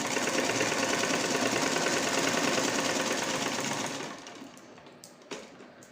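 A sewing machine stitches a dress neckline in a dense, steady mechanical whir for about four seconds, then slows and stops, leaving faint clicks and handling noises.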